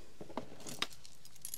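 Keys jangling inside a small leather handbag, a few light metallic clinks and rattles as the bag's contents are handled, close and quiet with no talking.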